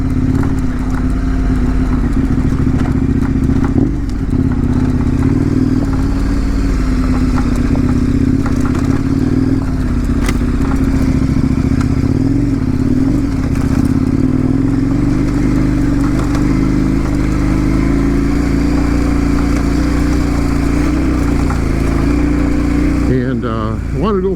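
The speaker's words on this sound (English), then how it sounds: "Had a little opportunity today to get out on the bike for a little bit, so I figured I'd hit this trail" A KTM 1090 Adventure R motorcycle rides a desert trail, its engine droning loudly and steadily with occasional rises in revs, plus wind and rattling over the uneven ground.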